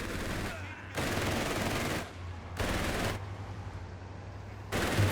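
MG-34 machine gun crew firing in a Company of Heroes 3 2v2 match: three long, dense rattling bursts separated by short pauses, loud and close, over a low steady battle rumble.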